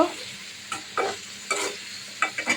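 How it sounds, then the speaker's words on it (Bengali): Chopped potatoes and pointed gourd sauté in spiced oil, with a continuous sizzle and repeated scraping stir strokes coming in short bursts, close and fairly loud. "আমি এখন কেটে রাখা আলু আর পটলটা দিয়ে দিচ্ছি কষিয়ে নেব"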